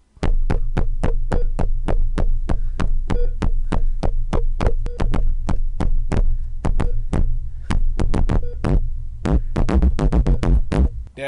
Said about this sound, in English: that's Morse code for get out of my house.